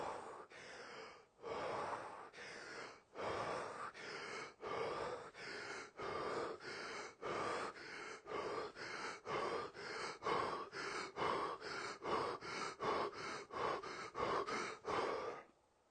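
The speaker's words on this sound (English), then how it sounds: "This is sort of like the Wim Hof breathing method." Fast, forceful rhythmic breathing in the Wim Hof style, about two dozen rapid in-out breaths in a steady cycle, close to the microphone, with no talking.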